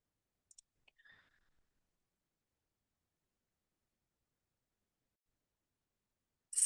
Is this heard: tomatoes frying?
no